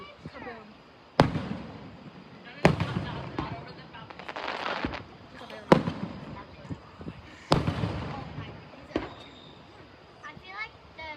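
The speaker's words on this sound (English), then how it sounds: "I feel like there's fireworks behind." Fireworks show over the beach at Ocean Isle Beach: sharp booming bursts arrive about every one to two seconds, each followed by crackling decay, with people talking and reacting throughout.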